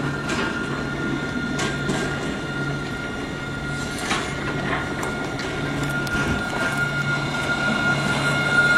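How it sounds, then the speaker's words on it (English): A tram rolls along with a steady rumble, rhythmic rail clicks and occasional squeals, heard from inside the car and building slightly louder toward the end. "time for one more tram ride back to the station"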